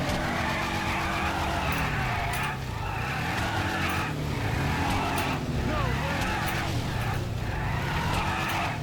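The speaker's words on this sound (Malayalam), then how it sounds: "അപ്പൊ നമുക്ക് ആദ്യം ഒന്ന് ജസ്റ്റ് ഒന്ന് ബേൺ ഔട്ട് അടിക്കാം" A car doing a tire burnout in the video game GTA V, with a loud sustained skid and tire squeal over a revving engine, repeated surges of screeching throughout.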